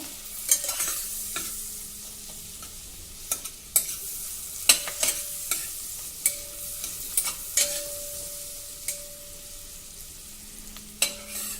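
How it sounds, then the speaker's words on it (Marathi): Chilli sautéing in butter or ghee in a pan for a winter soup, a steady close sizzle broken by repeated sharp spatula scrapes and clinks against the metal, with no talking. "हे आपल्याला थोडं परतून घ्यायचं आहे"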